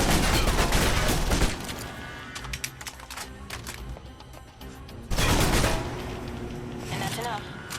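Submachine gun bursts in the video game Alpha Protocol on PS3, two loud rapid-fire volleys separated by quieter gameplay sounds, with a voice talking over the action.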